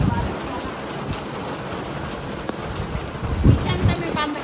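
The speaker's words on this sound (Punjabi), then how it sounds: "ਬਾਰਿਸ਼ ਬਹੁਤ ਤੇਜ਼ ਆ" Heavy summer rain pouring down in a village, a dense, loud, continuous wash of falling water with scattered heavier drops and thumps on nearby surfaces.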